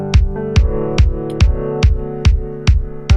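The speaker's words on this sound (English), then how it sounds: "The kick drum is just basically quarter notes" A kick drum thumps steady quarter notes, about eight evenly spaced hits, over sustained felted piano chords in an electronic production, loud and close.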